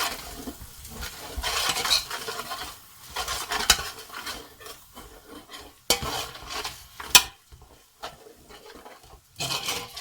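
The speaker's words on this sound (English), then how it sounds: "I'm going to add in dhania powder, garam masala, and I'm going to mix that in." Dhania powder and garam masala being stirred into a chicken curry, with uneven scraping and clinking of a spoon against the pot over a faint sizzle, including a few sharp knocks.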